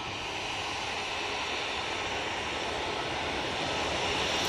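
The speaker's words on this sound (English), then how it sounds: "Next out, we have this TUI 737." A TUI Boeing 737 airliner departs Manchester Airport, its engines a continuous broad roar that swells slightly louder toward the end, heard alone without voices.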